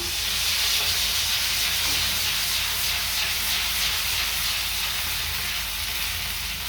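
Radicchio sizzles in a pan with sausage for a barley risotto over lowered heat, a steady broadband hiss that fills the whole stretch without pause.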